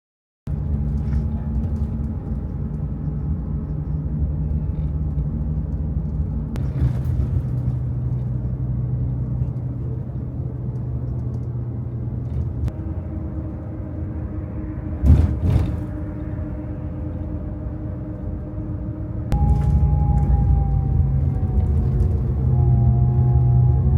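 Double-decker coach cruising between Singapore and Kuala Lumpur toward Jurong East, a steady low engine and road rumble throughout, with a brief thump near the middle and a gear or pitch shift late on.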